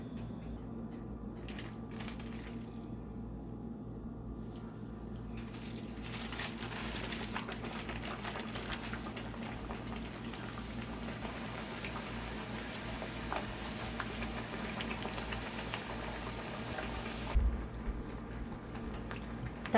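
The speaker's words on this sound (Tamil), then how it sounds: "தட்டை பொரிக்கிறதுக்கு எண்ணெய் மீடியம் ஃப்ளேம்லேயே வச்சுக்கோங்க." Thattai snacks fry in oil over a medium flame, giving a faint, steady sizzle and crackle with a low background hum and no talking.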